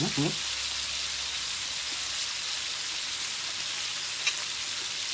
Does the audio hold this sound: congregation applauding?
no